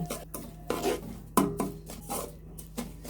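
A spoon stirs caramelizing sugar in a pan while making malai pitha, giving soft scraping strokes and several sharper knocks against the pan at an irregular pace, close by with no talk.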